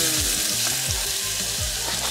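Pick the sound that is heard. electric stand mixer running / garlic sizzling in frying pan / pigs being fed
garlic sizzling in frying pan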